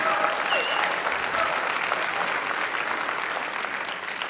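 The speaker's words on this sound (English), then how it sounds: "how about a round of applause for Mark?" A room of guests at a retirement party gives Mark a round of applause, a full wash of overlapping claps that starts strong and slowly tapers toward the end.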